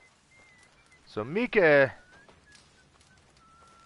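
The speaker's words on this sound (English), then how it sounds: "Who's whistling?" A faint, steady whistled tune plays throughout a scene in the video game Red Dead Redemption 2, holding a thin sustained tone while someone briefly speaks over it midway.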